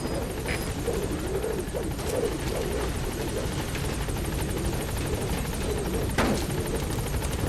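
A support helicopter from Metal Gear Solid V hovers on station at a landing zone, its steady rotor drone continuous and moderately loud, with faint game effects and a short sweeping whoosh near the end.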